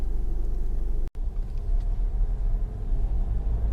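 A 2015 Honda CR-V 1.6 i-DTEC diesel automatic rolls along a road, giving a steady, close cabin drone of engine and tyre rumble that drops out for a brief instant.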